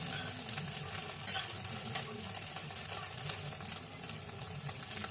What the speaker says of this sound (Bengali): ভালো করে প্রত্যেকটা পাটকে ভেজে নেবো